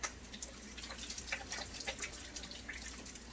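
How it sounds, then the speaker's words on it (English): Tap water runs steadily at a farm sink in Kalapana, Hawaii, while hands are rinsed under it, with soft splashing and irregular drips at a modest distance. "I'll wash my hands again."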